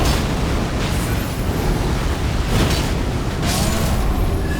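A weapon attack with a Blasphemous Blade in Elden Ring, buffed with Flame Grant Me Strength, sets off roaring fire and lightning blasts, a loud continuous rumbling wash with repeated swelling bursts.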